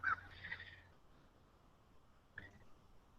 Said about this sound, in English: Those crows are pretty loud.